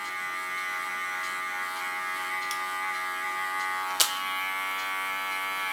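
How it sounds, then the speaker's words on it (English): An electric hair clipper hums steadily at close range while giving a clipper cut, a constant buzzing drone with a brief sharp click partway through. "it's much nicer with a clipper to do a clipper cut"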